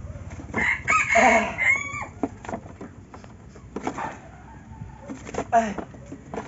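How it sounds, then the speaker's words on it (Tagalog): A kilyawan gamefowl rooster crows loudly in several bursts amid other fowl clucking, heard outdoors with people talking nearby. "Andiyan po yung kilyawan tayo. Tingnan natin kilyawan."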